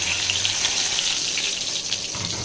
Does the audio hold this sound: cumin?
yes